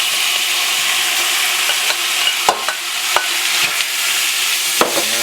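A seafood mix is tossed into a pan of golden-browned garlic for pansit Malabon, raising a loud, dense sizzle close by, with sharp scrapes and clacks of the spatula scattered through it.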